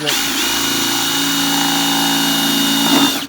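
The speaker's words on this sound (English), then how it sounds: "Sometimes it's good to go reverse because the plastic says put the drill reverse so it drills" A power drill bores through plastic while running in reverse, a loud, steady motor whine holding for about three seconds close to the listener before spinning down.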